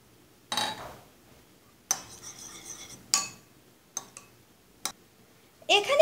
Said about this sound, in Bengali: এবার ডিমটাকে ফেটে নিব